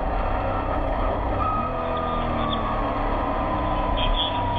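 Porsche RSR race cars pass at the 2015 Rennsport Reunion, a continuous engine roar from several cars going by in quick succession at moderate distance, with faint talk underneath.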